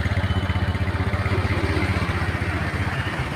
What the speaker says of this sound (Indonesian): Kita lakukan selah dulu ya, kita bukan pakai engkol. Kendaraannya bakal hidup.